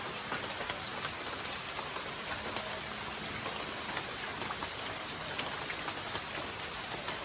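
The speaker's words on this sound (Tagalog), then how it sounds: "medyo malakas-lakas po yung ulan dito" Heavy rain pours steadily on a farm with layer poultry buildings and bamboo nearby, a dense, even hiss of drops drumming on surfaces throughout, loud and close with no voices.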